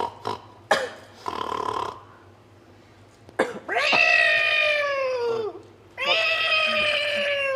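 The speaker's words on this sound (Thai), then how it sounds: "แมวกำลังตีกัน" Cats fight nearby, giving out loud, drawn-out yowls and wails that rise and fall, broken by short hisses and spits, with a quiet pause midway.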